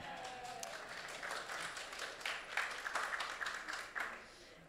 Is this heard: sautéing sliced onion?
no